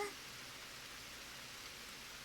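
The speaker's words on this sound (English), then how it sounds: "When we stepped outside, we were faced with pouring rain" Pouring rain in LoveKami, a steady, even hiss of rainfall that holds without change throughout, quiet and continuous.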